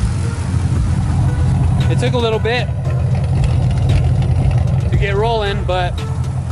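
A Datsun 240z engine runs steadily at idle, a low continuous rumble throughout, with someone talking briefly over it.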